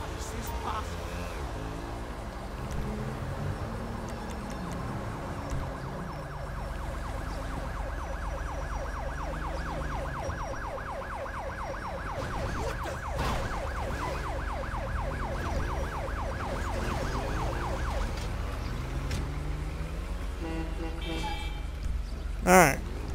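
In Grand Theft Auto V with the LSPDFR police mod, an ambulance siren wails steadily for about twenty seconds with a rising and falling tone, close and loud, while people talk over it.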